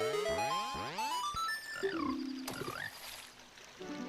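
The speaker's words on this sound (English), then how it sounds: "Frogs, I usually dodge you when I play this game" Frogs in Zelda: Ocarina of Time give a series of cartoonish croaks and rising-falling chirps in quick succession, followed by a sharp chime and softer tones, clear and close.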